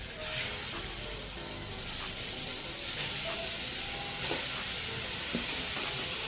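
Finely grated carrots sizzle in hot ghee in a pan, a soft, continuous frying hiss with light crackles and occasional stirring sounds at moderate to low volume.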